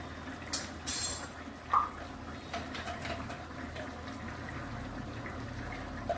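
Water poured into a pan of prawn and elephant-foot yam curry on the stove: a couple of short splashing gushes early on, then a steady soft hiss and bubbling that carries on to the end.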